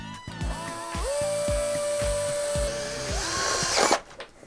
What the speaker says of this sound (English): This here is a shoe drill by the brand Skill.